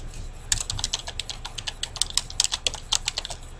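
Someone types a folder name on a computer keyboard, a quick close run of light key clicks, steady then slightly uneven, with no voices over it.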